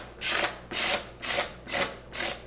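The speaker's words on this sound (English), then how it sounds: "I actually like to use a knife that's really blunt like this, and I just hold it by the end and I just scrape it." A blunt knife scrapes the spines off a nopal cactus pad in five even, rasping strokes, close and fairly soft.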